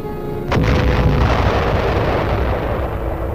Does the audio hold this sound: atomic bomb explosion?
yes